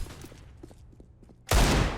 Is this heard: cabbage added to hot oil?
no